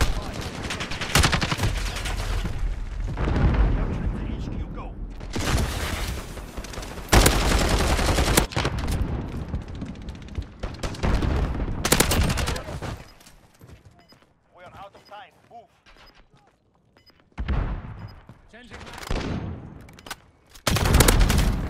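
AUG rifle gunfire in Modern Warfare comes in loud bursts of rapid shots, broken by brief quieter gaps, with someone talking at times between the volleys.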